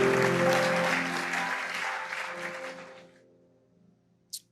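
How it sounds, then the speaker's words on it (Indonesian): A church youth service congregation applauds loudly for about three seconds, the dense clapping fading out into near silence with a single faint tap near the end. "Beri tepuk tangan pada Tuhan."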